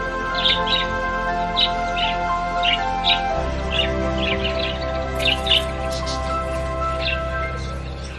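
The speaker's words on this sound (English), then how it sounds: "Its true home is the outback of Australia, and the bird is the Budgerigar." Budgerigars, the small parrots of the Australian outback, chirp in short bright bursts of tweets recurring every half second or so over a steady background of narration and music.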